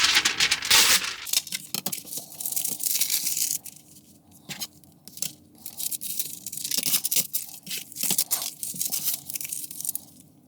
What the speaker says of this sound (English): I'm just going to tear my paper here a little bit